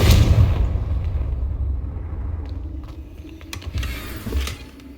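Confringo fire-blast spell cast in Hogwarts Legacy, a loud deep boom at the start fading into a low rumble, with a few faint sharp crackles and a smaller thump near the end.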